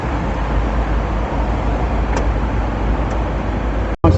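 New York City street background: a steady, unbroken roar of traffic and city noise that continues without pause and cuts off abruptly near the end, with no talking.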